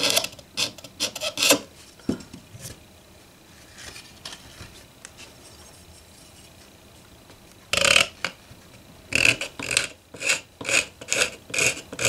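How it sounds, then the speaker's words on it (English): Wood being scraped by hand at the neck joint of a Gibson Hummingbird acoustic guitar during a neck reset, short rasping strokes in quick bursts with a long quiet gap between them, close and with no talking. "I can come in here and scrape it off"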